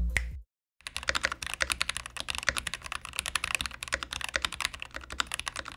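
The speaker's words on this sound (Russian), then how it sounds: "Эта клавиатура стоит 3400 рублей и в стоке звучит так." Rapid typing on a stock budget IO Typex mechanical keyboard: a dense, uneven stream of sharp, clacky keystrokes played alone and close, after a brief moment of silence.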